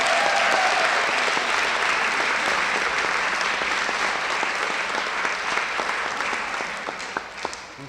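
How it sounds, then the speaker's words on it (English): Audience at a morning press conference applauding young people, a thick and steady round of clapping held loud for several seconds before it thins out and fades near the end. "let's give a round of applause to the young people behind me"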